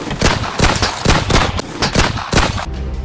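Bursts of heavy-weapon gunfire in a rapid, loud, close string of sharp overlapping shots that fill the whole stretch with no talking.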